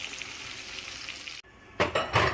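Chicken back sizzles steadily in hot oil, a close, even crackle that drops out briefly and then returns louder with a burst of bubbling.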